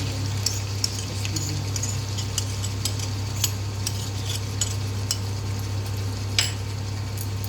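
Yogurt-mixed masala frying in a pan with fried onions, a steady low sizzle with small scattered ticks and clinks of stirring, close and even throughout.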